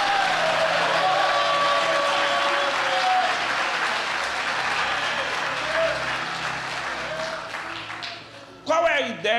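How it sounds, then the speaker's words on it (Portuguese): A church congregation applauds during a service, a broad steady wash of clapping, while a voice speaks over it and the sound grows louder and busier near the end. "vamos aplaudir Jesus"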